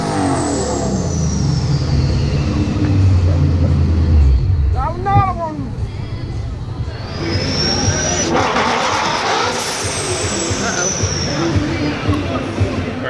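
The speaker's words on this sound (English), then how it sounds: "I launched the car. It shook pretty bad, about 3 times, and then the axle snapped" A Ford Mustang launches hard on stock half shafts, its engine revving loud and close with rising and falling pitch, a sharp shudder midway, then more revving and road noise.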